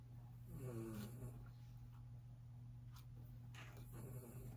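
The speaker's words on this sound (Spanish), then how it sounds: "Si escuchan un ronquido, ya saben, mi fiel compañero." A pet dog snores softly and rhythmically nearby, with low, slow breaths rising and falling in a quiet room and no voices over it.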